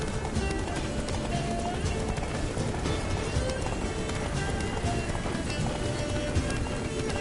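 Horse galloping in the video game The Witcher, a dense continuous rush of hoofbeats mixed with loud rumbling movement and ambience throughout.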